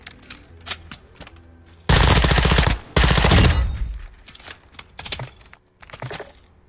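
Suppressed automatic gunfire in Call of Duty: Modern Warfare 2 multiplayer, two dense rapid bursts of muffled shots up close, surrounded by scattered clicks and softer game sounds before and after.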